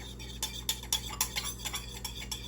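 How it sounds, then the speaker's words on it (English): A utensil stirring jerk chicken in a baking dish, a quick run of about a dozen light clinks and scrapes in an irregular rhythm, close and fairly quiet, with no talking. "I'm just gonna give it a stir"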